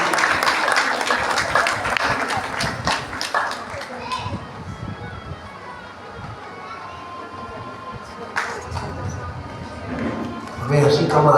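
Audience at a Bhagavata katha gathering in a Delhi Sanatan Dharma temple claps loudly for a few seconds, then the applause fades into chatter and children's voices, with a fresh burst of clapping near the end.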